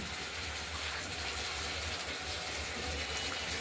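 Water pours steadily into a pan for a rohu fish curry with potatoes, beans and tomato, making a continuous close gushing rush that never stops.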